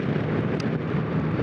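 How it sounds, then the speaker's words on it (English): Strong south wind gusting around a rider on a new Honda GoldWing motorcycle: a steady, loud broadband roar buffets the microphone throughout, with one brief sharper burst, and no speech. "right now I'm dealing with a pretty decent south wind in the 20s or so."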